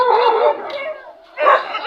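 A dog whines and yelps in drawn-out, high cries, with a short pause before another loud burst of whimpering.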